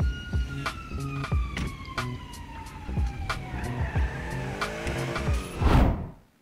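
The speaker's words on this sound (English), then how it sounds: "Oop, the police are coming," A police siren wails in the GTA 5 Online video game over car engine noise and tire squeals, rising and falling steadily for several seconds before cutting off abruptly near the end.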